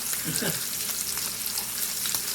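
Pearl onions sizzling in a hot pan alongside steak, a steady close frying hiss with a few stirring scrapes near the start.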